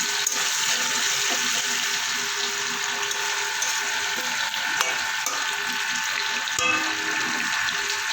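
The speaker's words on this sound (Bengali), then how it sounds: "একটু হলুদ দিয়ে আলুটা আমি একটু লাল করে ভেজে নেব" Steady, close oil sizzle of potatoes with a little turmeric frying, with light scraping and stirring knocks from a utensil in the pan.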